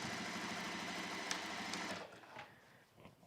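A sewing machine stitches a quarter-inch seam on a cork and velvet pouch, running with a steady close whirring chatter for about two seconds before stopping, leaving faint handling noises.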